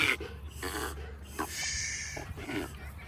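A hot, tired dog pants close by in quick, breathy snorting puffs that run steadily through the moment, with no one speaking over them.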